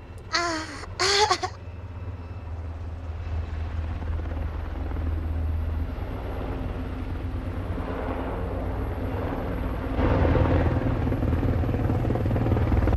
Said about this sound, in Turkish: Helikopter geliyor.